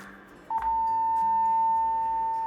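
A steady 900 Hz tone from a phone starts abruptly and holds level and unbroken for the rest of the clip, sounding beside an open PVC pipe over faint room noise.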